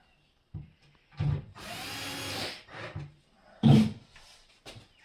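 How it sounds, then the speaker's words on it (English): A drill screwing on a fitting during a kitchen extension build, several short whirring bursts with one longer run, close and loud, with pauses between. "I'm just screwing it on."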